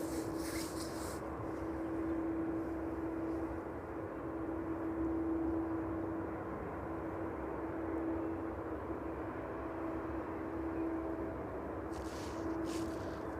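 A fixed-wing aircraft at East Midlands Airport on a Thursday evening, a steady distant engine roar with a constant tonal whine, sustained and even, no one talking.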